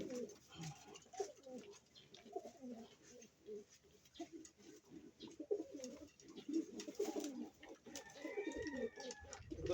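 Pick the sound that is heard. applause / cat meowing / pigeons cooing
pigeons cooing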